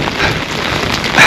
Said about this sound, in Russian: я топаю по дождливому поселку Лазаревское